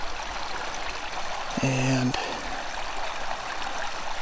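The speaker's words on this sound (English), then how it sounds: "So we've just been making our way down this creek here." An Idaho creek flows in a steady, close rushing wash of water, with a brief murmur of a voice partway through.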